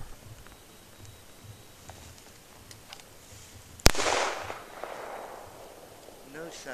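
A single sharp, loud gunshot from a .38 Special revolver firing powder-coated cast-bullet hand loads at a 7-yard target, followed by a short ringing decay and some rustling in a quiet outdoor setting.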